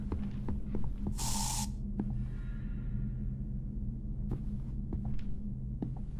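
A short, loud hiss of spray sounds in the horror video game Luto, bursting briefly over a low droning hum and scattered game noises.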